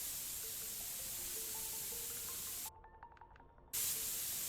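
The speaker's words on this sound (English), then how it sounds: "Spray our paint all over it." Spray painting a car's exhaust in a car dealer simulator video game: a continuous loud hissing spray lasting several seconds, briefly cut off before resuming, with faint game tones underneath.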